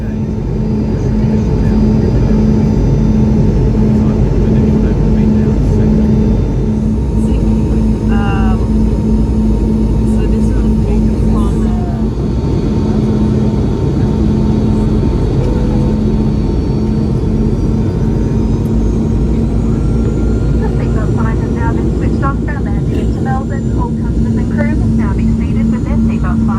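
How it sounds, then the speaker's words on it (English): Inside the cabin of a QantasLink Boeing 717 on landing approach, a loud, constant engine and airflow rumble with a steady hum runs throughout, broken by a few faint higher chirps and clicks. "As we're now about to land, I'll quickly sum up my experience aboard the QantasLink Boeing 717."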